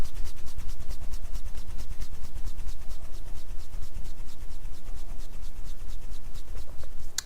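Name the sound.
fast rubbing of skin during face lymph massage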